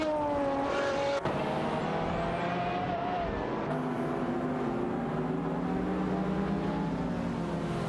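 A Ferrari and a McLaren F1 GT battle in a racing video game, their engines whining loudly with rising and shifting pitches, steady and close with no talk.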